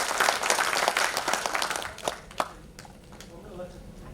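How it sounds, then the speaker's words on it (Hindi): Delegates clap at the Suheldev Bharatiya Samaj Party national convention in Mumbai: a dense burst of applause that thins out after two seconds into scattered claps, with a voice speaking. "जोरदार ताली बजाइए, कस के ताली बजाइए थोड़ा सा"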